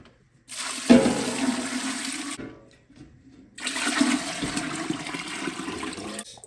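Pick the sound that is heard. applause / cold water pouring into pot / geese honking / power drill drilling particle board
cold water pouring into pot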